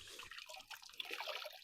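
Warm water is splashed and sloshed while washing a dairy cow's udder before hand milking: faint, close trickling and dripping with soft wet rubbing and no speech.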